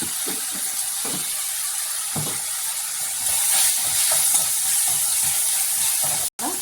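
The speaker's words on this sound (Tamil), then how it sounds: "உப்பு சேர்த்து வதக்கிக்கலாம்" Tomatoes with salt sautéing in a pan for potato masala, a close, steady sizzle and hiss with occasional stirring scrapes, growing louder partway through before a brief cut near the end, no voices.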